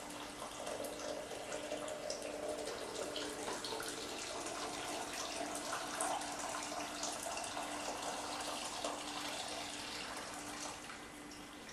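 Hot water runs steadily from a kitchen tap into a container while kombucha is being prepared, a continuous hissing, splashing stream that holds fairly even for about twelve seconds with no talking.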